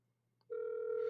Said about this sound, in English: Let me call Paul real quick